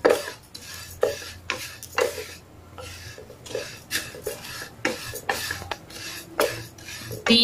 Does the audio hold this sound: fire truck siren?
no